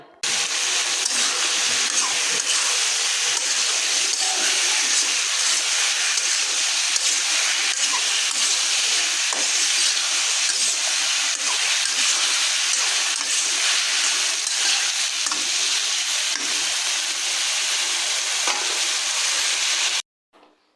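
Vegetables fry in a cooked spice paste, a steady close sizzle and hiss that runs unbroken for about twenty seconds with faint stirring and no talk.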